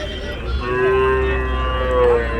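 Calves moo at a Punganur calf market among small HF and Jersey calves, a couple of drawn-out tonal moos over a steady low crowd rumble.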